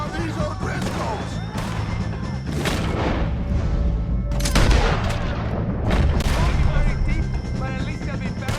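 Video game gunfire in Red Dead Redemption 2 during a fight with O'Driscoll gang members: rapid, loud volleys of rifle and pistol shots with booming blasts, overlapping bursts across the stretch alongside game voices.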